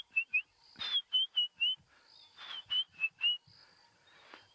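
A person whistles an imitation of a white-browed scrub robin call, repeated short bright whistled notes in quick bursts, close and moderately soft, with faint outdoor rustles behind.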